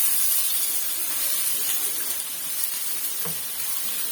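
Chana dal frying in hot ghee in a frying pan over a high flame, giving a steady, loud, close sizzle and hiss that carries on without a break.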